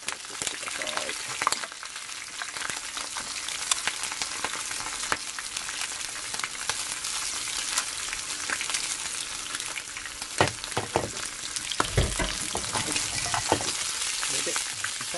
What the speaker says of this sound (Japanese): 油が跳ねるので気をつけてください。